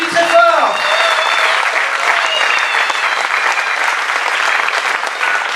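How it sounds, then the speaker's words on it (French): An audience at an improv theatre festival gives a loud, sustained round of applause, dense clapping throughout with a brief voice at the very start. "On les applaudit très fort."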